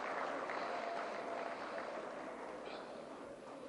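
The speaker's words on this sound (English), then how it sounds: "Please, a round of applause for them." Audience at the Africa Movie Academy Awards ceremony in Lilongwe, Malawi, applauding the AMA board: a steady wash of clapping that gradually tapers off, with voices underneath.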